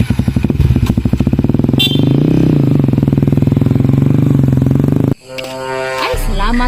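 A motorcycle engine idles loud and close with a steady rapid putter, then cuts off sharply near the end, leaving quieter background sounds.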